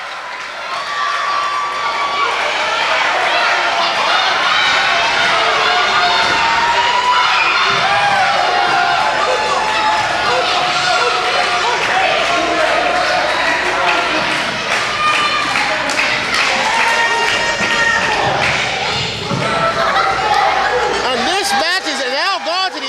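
Crowd at an independent professional wrestling event cheering loudly and continuously, dense shouting and yelling with children's voices, some claps and thuds, sustained throughout.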